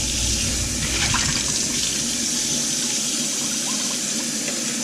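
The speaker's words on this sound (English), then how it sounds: "But I start with just rinsing out as much of the food as I can." Tap water pours steadily into a sink while a cast iron skillet is rinsed of food, giving a continuous, close splashing rush.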